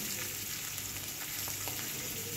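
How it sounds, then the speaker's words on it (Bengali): Fish fries in a pan with a faint, steady sizzling hiss that runs evenly the whole time, with no talking. "তো এখানে মাছটা ভেজে নেব।"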